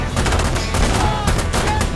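Dense, continuous gunfire in the military shooter game Insurgency Sandstorm, rapid overlapping shots and bursts rattling loudly and close for two seconds with no pauses.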